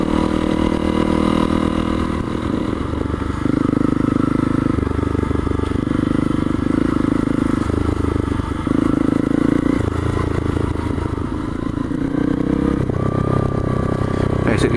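Honda CRF250L trail motorcycle climbing a slippery stream-side trail, its engine droning loud and close with surging throttle blips and clattering over rough ground for the whole stretch.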